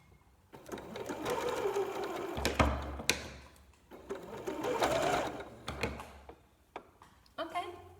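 A sewing machine runs in bursts stitching t-shirt fabric, a whirring mechanical buzz rising and stopping in several runs with clicks between, while a voice speaks quietly in the background.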